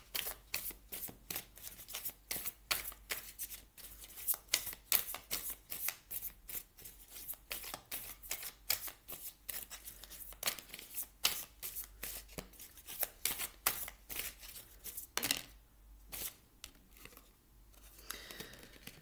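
Oracle cards being shuffled for a tarot-style reading: continuous close, papery riffling and slapping of the deck in quick uneven bursts, quiet and without talk, ending with a few softer handling sounds.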